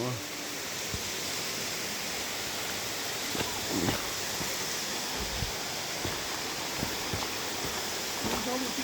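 Waterfall in the Blue Mountains, a steady broadband rush of falling water that holds evenly throughout, with faint voices and small movements close by.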